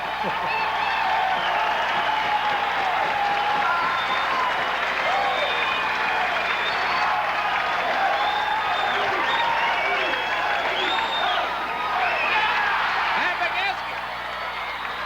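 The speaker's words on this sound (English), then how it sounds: "This crowd is still going wild." A high-school basketball crowd in a packed gym cheers and applauds steadily, with whoops and shouts rising through the noise and a commentator talking over the din.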